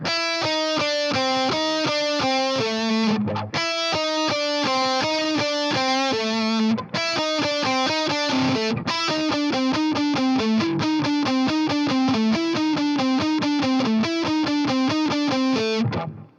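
A distorted electric guitar plays a fast minor pentatonic riff of quick single notes, loud and continuous with brief pauses between phrases.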